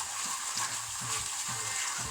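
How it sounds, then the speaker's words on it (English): Garlic frying in a hot pan with oil, a constant bright sizzle and crackle, fairly close, with soft rhythmic stirring knocks underneath and no talking. "now I'm going to put this garlic. Now it might splutter a little bit"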